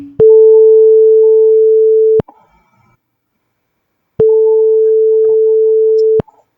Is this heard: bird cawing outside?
no